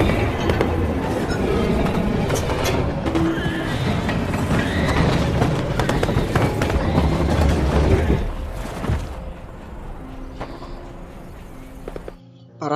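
Prisoners in a film break apart the wooden walls of a train wagon, with dense cracking, banging and rumbling that stays loud, then fades to quieter scattered knocks near the end.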